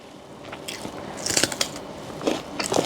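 Crunchy bites and chewing of a fresh red date, with several sharp crisp crunches and softer mastication sounds close to the mic, no talking.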